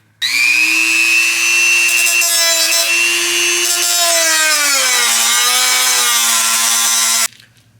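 A power cutting tool whines loudly through the rusted body panel of an AE86 during a home rust repair, one sustained cut of about seven seconds whose pitch sags under load before it abruptly stops.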